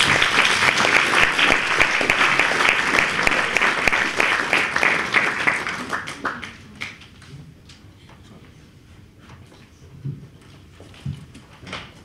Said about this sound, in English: Please have a round of applause for Abdul Karim.